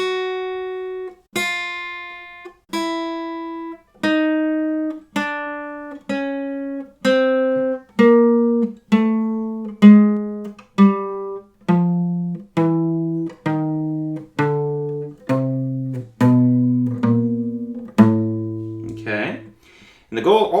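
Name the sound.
guitar finger warm-up exercise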